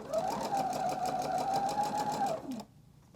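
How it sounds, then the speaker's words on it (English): A sewing machine runs steadily, stitching a long seam around the edge of a patchwork quilt, its even hum holding for over two seconds before winding down and stopping. "we're going to stitch all the way around and then all the way around again on our second line"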